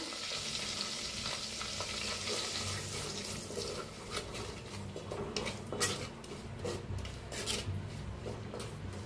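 Coriander and leftover masala are lightly roasted in a pan for a stuffed tomato dish, giving a steady close sizzle with scraping stirs and clinks of the spoon throughout.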